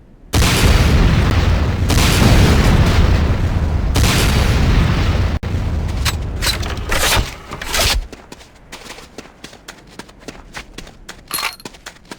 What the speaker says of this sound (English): Next up is the Sakolze 66mm Type R12 Locust automatic rocket launcher.